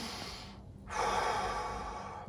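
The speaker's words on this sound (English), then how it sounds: "Take a nice deep breath." A person takes one deep breath, a soft inhale followed by a louder, longer exhale close to the microphone.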